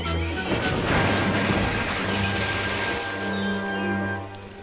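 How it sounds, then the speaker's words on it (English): Toy trains from Trainz Thomas & Friends, a tender engine crashing into trucks being shunted by a diesel, produce a loud sustained smash and clatter with a ringing tone, gradually fading away. "James had crashed into some trucks that were being shunted by diesel."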